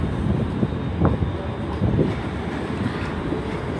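ScotRail electric multiple unit departing Glasgow Central station, a steady rumbling rail roar with wheel clatter and some wind noise on the microphone, loud and continuous.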